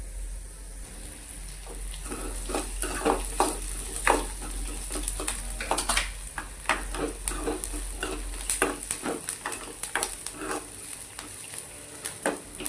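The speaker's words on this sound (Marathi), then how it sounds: "आता कांदा भाजताना मी गॅसचं फ्लेम हाय केले कारण की कांदा चांगला परतून जावा म्हणून" Onions fry in a pan over a high flame, a quiet steady sizzle broken by repeated scraping and clinking as a spoon stirs them.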